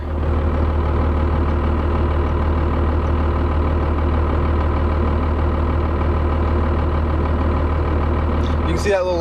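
A 6.2 V8 engine idles close by with a steady, deep rumble while a high-idle control adds small bits of throttle. Near the end a short higher-pitched sound cuts in over the engine.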